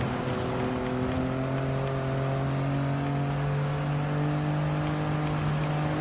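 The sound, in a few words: Toyota GR Yaris car racing in Gran Turismo Sport video game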